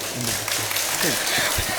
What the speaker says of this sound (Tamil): இந்த நாலு பேர்த்துக்கு ஒரு கைதட்டு கொடுக்கலாம்